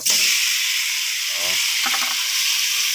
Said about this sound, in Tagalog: lalagay natin ngayon ito sa kawali, initin